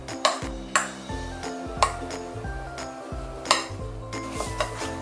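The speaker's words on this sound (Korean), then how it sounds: "다져주었던 당근도 감자와 잘 섞어주겠습니다" Mashed potato, potato starch and chopped carrot are mixed in a bowl, with a series of sharp clinks and scrapes of a utensil against the bowl at irregular intervals, close and fairly quiet.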